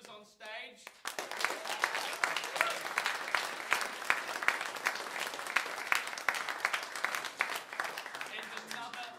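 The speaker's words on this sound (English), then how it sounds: "have a huge round of applause for all of the performers?" Audience applause for performers at a school show, dense sustained clapping that starts abruptly after a brief moment of talk and holds steady, fairly close and full.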